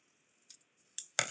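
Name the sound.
cutting paper straight for a gift bag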